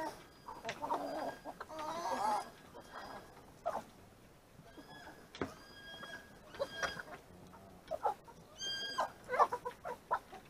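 Chickens, a mix of young males and molting hens, cluck and squawk in short irregular bursts at morning feeding time on a farm, fairly close and moderately loud, with no talking.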